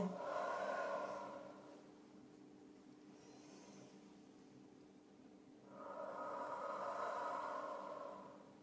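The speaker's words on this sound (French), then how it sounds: "On inspire, on expire." Slow breathing in and out during a guided neck-stretching exercise, two long audible breaths separated by a quieter pause, close and soft with no talking.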